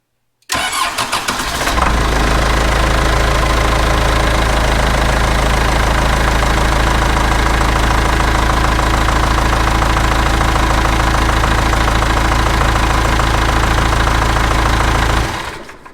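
The diesel engine of a 1998 Swinger 3000 wheel loader cranks and catches, then settles into a loud, steady idle with a rough knocking rattle. It runs unbroken for about fifteen seconds before cutting off.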